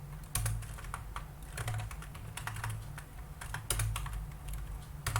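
Typing on a computer keyboard while writing PHP form code: quick, close bursts of key clicks separated by short pauses, with no talking.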